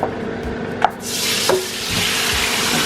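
Oxtail searing in hot oil in a pot, a loud steady sizzle with a couple of clinks from a utensil, close and continuous without speech.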